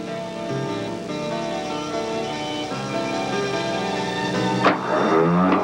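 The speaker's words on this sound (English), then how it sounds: "The starting motor runs." A starting motor on a CAT electrical demonstrator runs when a jumper wire bridges a faulty heat start switch, making a loud, steady, tonal whine that shifts abruptly near the end.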